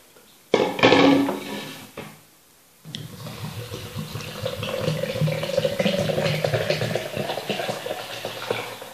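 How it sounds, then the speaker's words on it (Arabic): A liter of water is poured into an electric blender holding grated orange for homemade lemon juice, a steady splashing gush that runs on for several seconds after a brief sharp clatter. "غادي نضيف عليها لتر من الماء"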